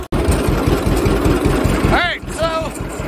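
A John Deere A dual fuel tractor engine runs steadily nearby with an even low throbbing idle while spreading dry material, and a brief whistle-like squeal rises over the engine near the end.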